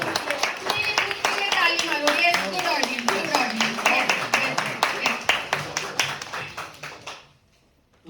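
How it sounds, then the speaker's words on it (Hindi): An audience at a shayari poetry recital claps in a fairly regular rhythm, distinct individual claps over cheering voices and chatter, before the clapping stops abruptly near the end. "आप सबके लिए तालियां"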